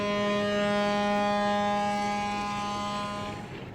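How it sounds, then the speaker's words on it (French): The Bou El Mogdad ship sounds its departure siren at the quay in Saint-Louis, Senegal, a long, steady, deep horn blast with rich harmonics that fades near the end. "Sur les quais, le Bou El Mogdad signale son départ, comme à l'époque des messageries."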